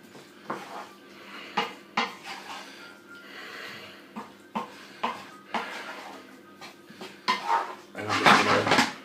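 Chicken tikka masala paste is mixed in a pot, with a run of irregular scraping, clinking utensil strokes against the metal that grow busier and louder toward the end.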